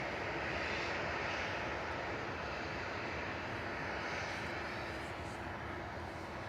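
An EasyJet airliner at Manchester Airport roars with a broad, steady jet engine rumble that fades slightly toward the end, heard from an outdoor spotting position with no talking.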